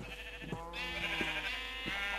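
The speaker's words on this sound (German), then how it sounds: "Schafe." Sheep in the Minecraft video game bleat several times, overlapping drawn-out calls that are clear and close, with no talking over them.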